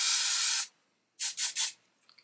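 Hairspray from an aerosol can misted onto a disposable spoolie for smoothing hair into a sleek bun: one long hissing spray, then three short close bursts in quick succession, ending with faint light handling noises.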